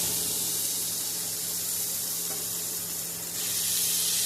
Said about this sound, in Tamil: கருவேப்பிலையை போட்டுட்டு அதுக்கப்புறம் இதில் வந்து அந்த மாங்காய் நெல்லிக்காய் அதெல்லாம் போட்டு சும்மா ஜஸ்ட் ஒரு ஃப்ரை தான்